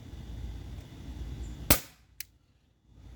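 A Glock 17 Gen 5 T4E .43 caliber marker fires one sharp, close shot, and a fainter second snap follows half a second later before the clip goes quiet. No one speaks.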